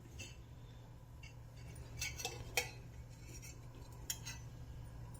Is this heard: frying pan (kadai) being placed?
yes